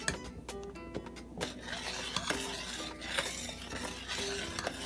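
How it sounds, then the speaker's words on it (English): Banana porridge being stirred in a pot of boiling water, with a steady scraping of the spoon against the pot, light clinks and a soft bubbling hiss underneath, close and moderately quiet. "the boiling water now, and stir it"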